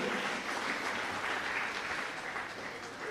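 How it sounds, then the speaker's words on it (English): Audience applause at a graduation and awards ceremony: a steady, dense wash of many hands clapping, sustained and fairly even throughout, with faint voices mixed underneath. "give yourselves a round of applause"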